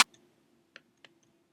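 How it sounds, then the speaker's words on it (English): A layered snare sample from a trap beat, heard alone: one sharp crack at the start, then a few quieter, snappy hits spaced out after it over a faint low hum. "I also layered it with this random snare sample"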